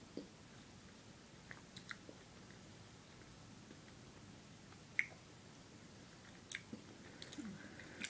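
Quiet, soft chewing of a chewy strawberry Paskesz sour stick candy, with a few faint wet clicks and smacks scattered through it and a sharper bite sound partway in, with no talking.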